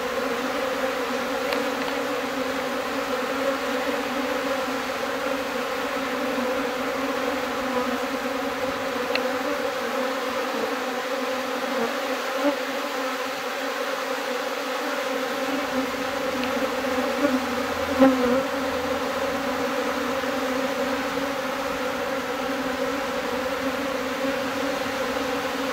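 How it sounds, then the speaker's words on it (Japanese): A swarm of Japanese honeybees hums in a continuous, layered drone, many wings buzzing together close by at a steady level for the whole stretch, with occasional individual bees passing nearer. "あ、でも出てくる蜂も多いです"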